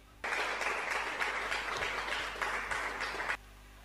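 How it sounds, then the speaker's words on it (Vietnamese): A short burst of warm audience applause for a male singer at a Kỳ Yên festival held at a Vietnamese village communal temple, starting abruptly, holding steady for about three seconds, then cutting off. "Xin tất cả quý vị dành cho em một tràng pháo tay nồng nhiệt."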